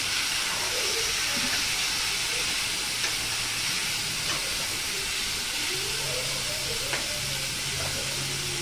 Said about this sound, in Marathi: परतून घेणार, कारण आधी आपण छान कारली उकळून त्याच्या फोडी मऊ करून घेतलेल्या आहेत.